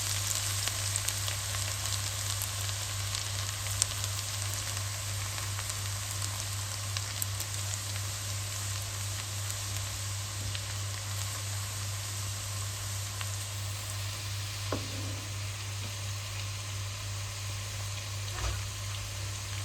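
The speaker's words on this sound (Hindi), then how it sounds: "इसमें हम लहसुन डाल लेते हैं। इसको हम सौते कर लेते हैं इसमें।" Garlic sautés in a pan for a black pepper chicken dish, giving a steady, even sizzle like light rain under a constant low hum, with a couple of faint knocks.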